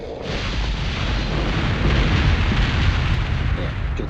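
A loud, sustained rumbling blast with broadband noise in Resident Evil 4 (2005), like a big explosion or artillery boom rolling on for several seconds.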